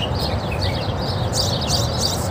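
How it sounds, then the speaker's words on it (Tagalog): Several birds chirp and twitter repeatedly in a forest, clear high calls coming in bursts over a continuous low ambient rumble. "maraming ibon"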